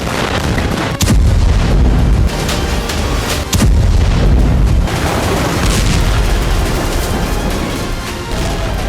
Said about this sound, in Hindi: एक तरफ गाजा में बमबारी जारी है